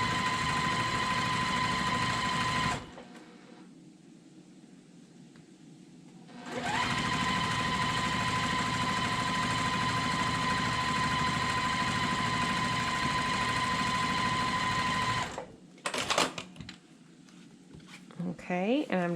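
A sewing machine joins quilt block seams in two long, steady humming runs broken by a short pause, with brief fabric handling near the end; a voice talks softly at times.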